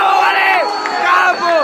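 Crowd at a freestyle rap battle exhibition cheering for a rapper at a 2017 hip hop event: loud, sustained massed shouting and whooping, many voices rising and falling together, close and filling the space.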